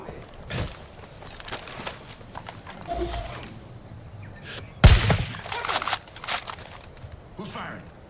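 Gunfire in the game Far Cry 5 rings out as scattered shots, with one loud sharp report near the middle, amid footsteps and ambient noise.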